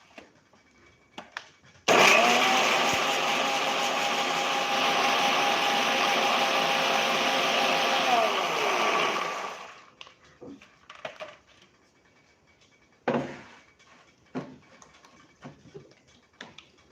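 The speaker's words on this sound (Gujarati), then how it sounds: "હવે આપણે મરચું અને ટમેટું લીધું છે એને આપણે પીસી લેશું." A mixer grinder whirs loudly and steadily for about eight seconds as it grinds green chili and tomato in its jar, then stops, followed by scattered clicks and knocks of the jar being handled.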